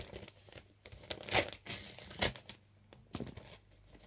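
A hard plastic wrapper on a pack of 2022-2023 Qatar World Cup trading cards being torn open: close, loud bursts of crinkling and tearing come in uneven bursts with short pauses between them.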